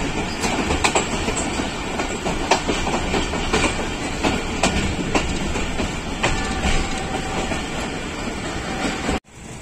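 Bahauddin Zakaria Express passenger train running between Multan and Bahawalpur, a loud, steady rumble of wheels on rails with rhythmic clickety-clack joints throughout, close and continuous until a sudden drop at the end.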